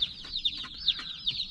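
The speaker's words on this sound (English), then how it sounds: "our chickens have arrived." Newly arrived chickens chirp and cluck softly in quick, repeated high peeps, close by and quiet, with nothing else heard.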